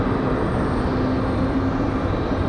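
Republic Airways airliner arriving at Raleigh Durham airport, heard as a steady distant engine roar with a faint tonal hum throughout, no talk.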